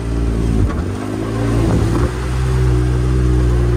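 A 2022 Can-Am X3 side-by-side engine droning low and steady as it drives through water, with brief surges and splashing swells, close and loud.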